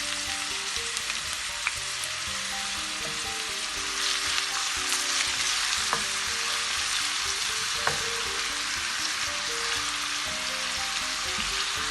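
A medium-size onion frying in a pan sizzles in a steady, close hiss, with occasional soft pops and stirring clatter, no one talking.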